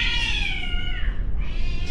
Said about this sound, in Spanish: Se están matando unos gatos,